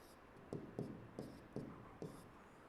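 Writing on paper or board during a Class 7 maths lesson makes five or six short, separate strokes in an uneven rhythm. The sounds are faint and close, with no talking.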